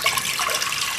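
Water poured into a pressure cooker holding chopped onions for beef biryani: a brief, bright splashing pour lasting about a second, close and fairly loud, with no talking.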